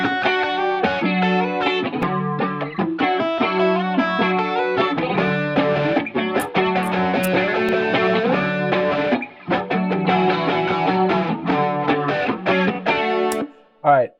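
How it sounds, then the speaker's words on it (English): Distorted rock guitar tracks in an emo pop and 2000s punk style play back loud and upfront, processed with EQ and compression, chugging in tight rhythmic bursts with a couple of short breaks and a clean guitar layered in. "It's got a little bit of distortion. It's got a clean guitar too."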